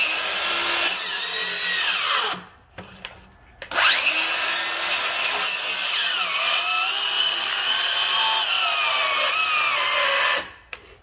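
Cordless 7-1/4 inch circular saws (Craftsman V20, Kobalt XTR, Dewalt Flexvolt) rip wood with the grain: a loud, close motor whine dips in pitch under load, cuts out briefly, then restarts for a long sustained cut before stopping.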